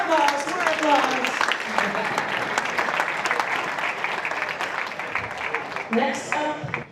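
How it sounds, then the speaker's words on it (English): A large crowd at a youth championships opening ceremony in Tilburg, Netherlands, claps in loud, dense, sustained applause. "more applause."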